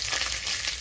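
Two dried red chillies hit hot oil with a bay leaf, giving a dense, even crackling sizzle that stays steady and fairly loud through a very short moment.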